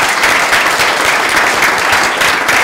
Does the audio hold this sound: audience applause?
yes